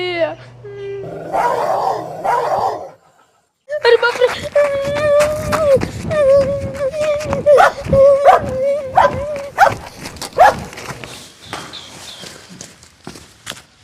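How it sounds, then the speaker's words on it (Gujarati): A mad dog barks and whimpers close by in agitated bursts, with a person talking and footsteps moving around. "આ કેવું હળી ગયેલું કૂતરું એ, ના તો મને ભૂએ"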